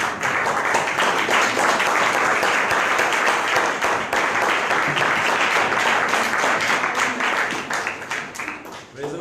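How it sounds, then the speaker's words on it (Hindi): A church congregation claps together during a Sunday morning service, producing a dense, steady roar of applause from many hands that fills the room and tapers off slightly at the end. "उसके नाम में तालियां देंगे एक बार फिर से"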